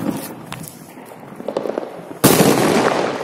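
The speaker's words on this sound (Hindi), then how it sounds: "ये जला ली माचिस, मेरे हाथ में सूत्री बम, अब जलाते हैं।" A sutli bomb firecracker set off by hand during Diwali celebrations bursts with one sudden loud bang partway through, followed by a sustained broadband rumble and crackle, after faint earlier pops and background noise.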